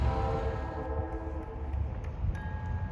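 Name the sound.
GP9 locomotive train passing, horn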